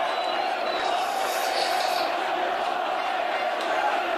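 Basketball fans chanting in an arena at a EuroBasket game, a steady dense roar of many voices sustained throughout at even loudness.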